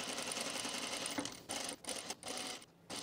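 A sewing machine stitches a seam in quick, steady bursts of whirring needle action with brief pauses between runs, close and fairly quiet with no talk.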